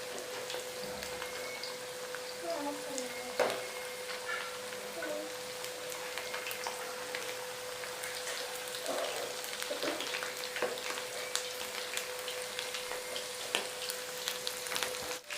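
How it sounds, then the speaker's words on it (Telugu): Chicken pieces deep frying in oil for chilli chicken produce a steady, close crackling hiss with scattered pops, rain-like and continuous, with no one speaking. "మంచిగా బ్రౌన్ కలర్లోకి వచ్చేదాకా ఫ్రై చేసుకోవాలి."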